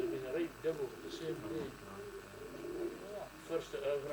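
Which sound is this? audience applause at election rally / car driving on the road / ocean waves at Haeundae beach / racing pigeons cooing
racing pigeons cooing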